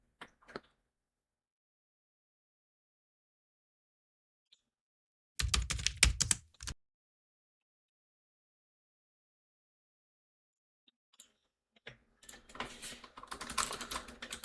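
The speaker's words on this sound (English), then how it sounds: "I need like a sound pack that just has a bunch of typewriter sound effects in them." Two separate bursts of rapid key clatter break up long silences, one short flurry early on and a longer run of typing near the end.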